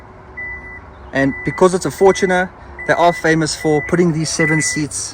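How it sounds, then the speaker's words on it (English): A 2023 Toyota Fortuner 2.8 GD-6 XV gives a faint, steady electronic beeping, pulsing in the background while someone talks close over it inside the SUV. "Oh, sorry about the beeping."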